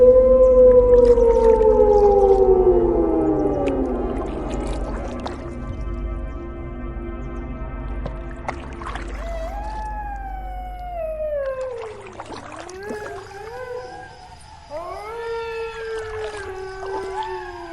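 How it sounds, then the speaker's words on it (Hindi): Jackals howl at night in long, wavering, sliding cries that rise and fall and overlap one another, loud and close at first, then several voices trading howls over a dark, quiet background. "ये सियार कितनी डरावनी आवाज में चिल्ला रहे हैं"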